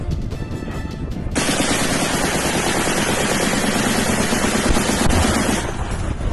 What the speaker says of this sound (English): Military Administration, Mikita, says that the target was a Russian Kh-101 cruise missile, shooting like a boss